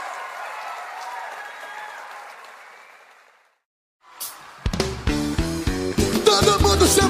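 Crowd at a live concert applauds, a broad wash of clapping that fades to silence, then loud percussive samba music with drums and voices bursts in.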